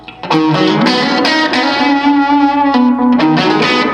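A distorted electric guitar plays sustained notes through a delay pedal set to maximum, with echoing repeats trailing under each note, loud and close.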